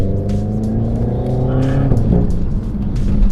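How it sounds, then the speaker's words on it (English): Renault Megane RS Trophy engine while driving, a loud steady note with rising and falling harmonics as it accelerates, close and continuous throughout with no talk over it. "Still makes a good noise for a standard car as well, which is nice."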